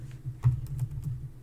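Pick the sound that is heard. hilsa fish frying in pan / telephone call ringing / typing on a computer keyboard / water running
typing on a computer keyboard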